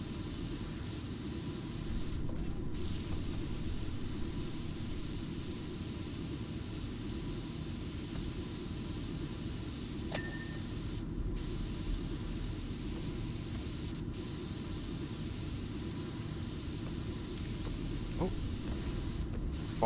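A pressure washer sprays steadily while cleaning a Thunderhawk model, giving a continuous broadband hiss of even loudness for the whole stretch, with a few brief breaks and faint speech underneath.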